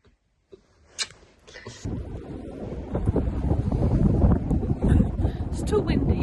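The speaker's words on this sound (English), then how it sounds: "It's too windy." Strong wind buffets a microphone outdoors, the rumble building from near quiet into a steady, heavy roar.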